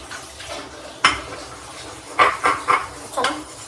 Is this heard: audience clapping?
no